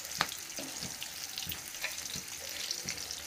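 Coriander seeds, cumin and sesame seeds fry with onion in oil in a pan, a close hissing sizzle broken by a few light scraping stirs, steady and unaccompanied by talk.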